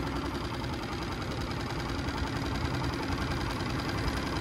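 A Yamaha 2.5 HP four-stroke outboard motor running in reverse gear, a loud, steady, close mechanical drone with an even rattling vibration and no pauses.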